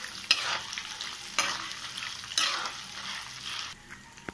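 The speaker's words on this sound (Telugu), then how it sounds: "ఇలా సగం ఫ్రై అయిన తర్వాత ఎండుమిర్చి వేసుకొని కలుపుకోవాలి" Dried red chillies sizzle steadily in a pan over medium flame as they are stirred in for a ginger chutney, with a few sharp scrape accents from the spoon. The frying is close and continuous, with no talking.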